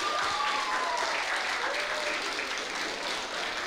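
Steady, dense audience applause fills a youth mental-health forum theatre performance, continuous clapping at an even level throughout.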